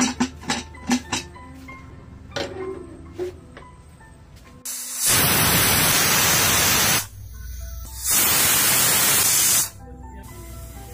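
A pressure cooker cooking beef releases steam in two loud, sustained roaring hisses of a couple of seconds each, close up, preceded by a few sharp clicks and knocks of handling the lid, with no talking.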